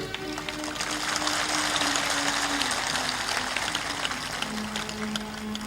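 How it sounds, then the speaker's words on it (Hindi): An audience at a Hindi motivational talk applauds steadily for several seconds, a dense even wash of clapping with a faint sustained hum beneath it and no voices over the top. "तालियां जोर से बजाइए।"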